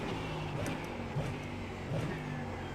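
Ford Mustang GT3 race car in the iRacing simulator downshifting, a steady mid-pitched engine drone with two brief blips as the gears drop, continuous and close.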